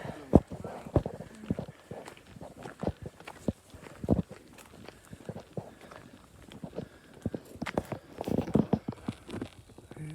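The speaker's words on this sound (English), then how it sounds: "Another horse." Horse hooves clip-clop along a lane between Bagendon and North Cerney in an irregular stream of sharp knocks, moderately close, with faint voices and outdoor noise underneath.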